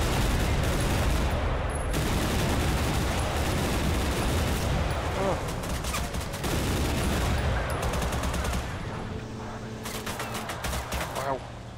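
A vehicle firing guns in the war game Total Conflict Resistance, with sustained rapid automatic bursts and scattered shots continuing throughout, loud and close, with occasional voices underneath.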